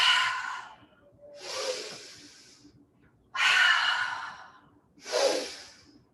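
Slow, deep yoga breathing: four long, airy breaths alternating in and out, each lasting over a second, close and clear in a quiet room with no talking.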